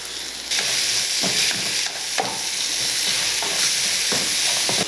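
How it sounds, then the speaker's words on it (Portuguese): Bacon, calabresa sausage, onion and annatto sizzle loudly in a pan as they sauté, a steady dense hiss broken by a few scraping stirs, with no voices. "E agora vamos deixar tudo isso refogar."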